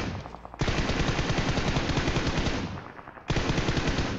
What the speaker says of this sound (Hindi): ये आप साउंड से सुन सकते हो, वहाँ पे फायरिंग हो रही है।